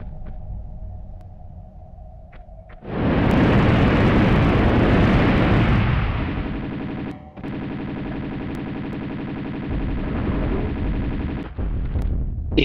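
A dragon in Tomb Raider 2 breathes fire in a loud, roaring rush that surges for about three seconds, then gives way to a sustained mechanical drone with a brief cut midway and a renewed burst near the end.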